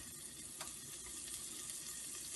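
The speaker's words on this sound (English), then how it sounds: "You can hear it sizzling." Cut-up shrimp sizzle in a stir-fry pan with a soft, steady crackling hiss, faint and continuous, with no voices.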